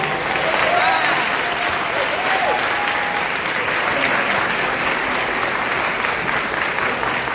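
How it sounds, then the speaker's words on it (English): A city hall audience applauds at a youth program recognition event, steady dense clapping filling the room loudly and continuously, with a faint voice briefly audible underneath. "Round of applause."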